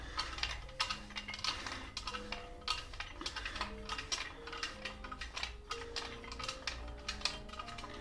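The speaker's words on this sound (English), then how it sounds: "Just basically unscrewing the grip, which is kind of ridiculous that I'm able to do that." Sword grip being unscrewed from the tang, heard as a close, continuous stream of small clicking, grinding and scraping sounds with no talk.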